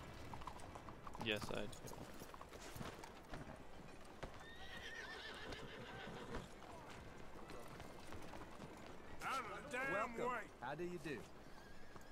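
Horse hooves clip-clop and a horse neighs in a Western-themed video game, with a few spoken lines between, and the whinnies and hoof beats sound close and clear.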